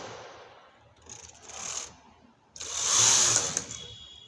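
A domestic knitting machine's carriage is pushed across a row, giving a soft whirring, rattling slide that swells twice, the second pass louder and closer, with no talking.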